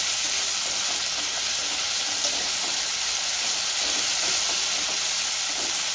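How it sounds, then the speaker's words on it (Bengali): Spice paste for a cabbage dish with katla fish head sautés in a pan over low gas flame, producing a steady, dense frying hiss that holds at an even loudness throughout with no voices. "আমি গ্যাসের ফ্লেমটা কম করে দেব আর একটু ভালো করে কষিয়ে নেব"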